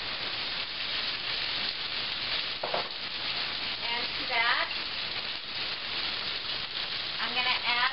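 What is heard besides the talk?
peppers and onions sizzling in cast iron skillet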